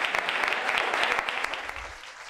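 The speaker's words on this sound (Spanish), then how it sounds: "al que le damos un fuerte aplauso" An audience applauds director Fernando Colomo at a talk held in La Platea, a dense, steady round of clapping from many people that fades slightly toward the end.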